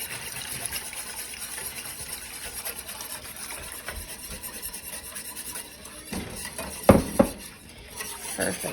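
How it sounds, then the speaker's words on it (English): Broth whisked into a pan, a soft continuous scraping and stirring with light metallic clinks, ending in a few louder knocks of utensil against pan. "Whisk while you're adding it."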